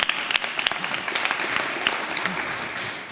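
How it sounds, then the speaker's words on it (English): An audience at a talk by John Nichols gives a moderate, steady round of applause with a few louder individual claps standing out, heard in a room throughout. "Let's give him a round of applause."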